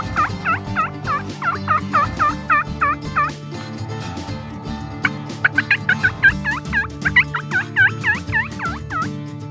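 Wild turkeys, toms among hens, gobble outdoors in rapid repeated bursts: a clear run of gobbles early, a pause, then another busy cluster of gobbles, fairly close and with no speech.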